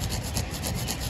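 Lotus seed rubbed hard against a stone to sand its coat, a steady close-up gritty scraping with a repeated back-and-forth rhythm, alone and without talk.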